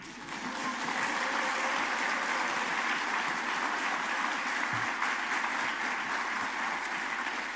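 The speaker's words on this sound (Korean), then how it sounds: "박수 한번 쳐주세요" Sustained applause from a large Won Buddhist ceremony audience, a dense, even roar of clapping that holds steady for several seconds.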